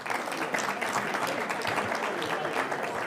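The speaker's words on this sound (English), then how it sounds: "I just want to have another round of applause for the panelists," Audience at a wind-energy conference on a university campus in Atlantic City applauds panelists, a steady, moderately distant wash of many hands clapping for about three seconds.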